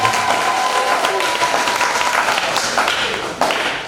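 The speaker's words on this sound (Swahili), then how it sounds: "Bwana awabariki, na pigeni makofi makubwa." A church congregation at AICT Mpanda in Tanzania applauds loudly, a dense wash of many hands clapping together, with talk over the top and a fresh burst of claps near the end.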